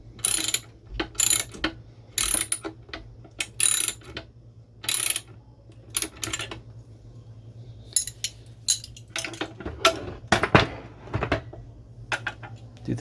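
Ratchet snugging a nut onto a lower control arm bolt of a 1977 C3 Corvette, heard as repeated bursts of close metallic clicking in short, separated runs, ending with some duller clunks of metal parts.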